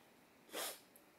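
A single sharp human sneeze from someone with rhinitis, one brief burst in an otherwise quiet indoor room with no talking.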